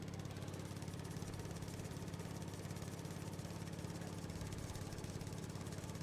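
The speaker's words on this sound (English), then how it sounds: "Mowing the lawn, mowing the lawn, mowing the lawn." A mower engine in Farming Simulator 19 drones at a constant pitch while cutting a lawn, a steady mechanical hum with fine rhythmic pulsing and no pauses.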